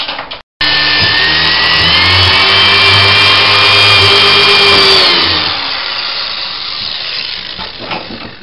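A power drill whines loudly and steadily as it pre-drills screw holes into wood while ceiling joists are being reinforced, for about five seconds, then winds down into quieter rustling and handling noises.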